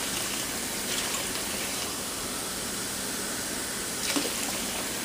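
Steady running water, such as a tap or a filled basin, for rinsing fresh chocolate mint in cold water, a continuous close hiss lasting throughout with no talk.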